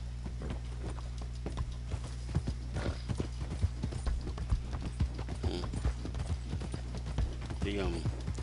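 Horse hooves clip-clopping at a steady rhythmic gallop in the video game Red Dead Online, close and distinct, with a brief whinny near the end and someone talking over them.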